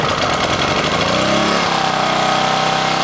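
A portable generator engine runs loud and rough close by, its pitch sagging and shifting unevenly as it struggles to settle.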